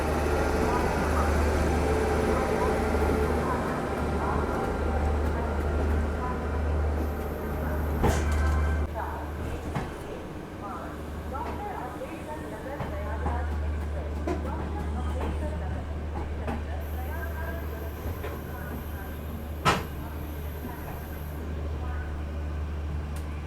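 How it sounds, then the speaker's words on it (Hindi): Tejas Rajdhani Express pulling out of Prayagraj Junction, heard from inside a 2nd AC coach as a steady low rumble with occasional clunks and knocks, while a voice talks over it. "6:30 बजे अपनी ट्रेन निकल चुकी है finally Prayagraj junction railway station से।"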